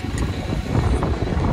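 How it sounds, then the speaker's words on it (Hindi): Strong wind blowing on the road between Madurai and Rameshwaram in Tamil Nadu near a railway bridge, a steady loud rumbling roar buffeting the microphone throughout, with no talk. "कितनी तेज हवा चल रही है"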